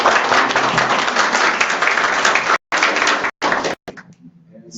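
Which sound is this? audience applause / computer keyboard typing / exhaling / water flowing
audience applause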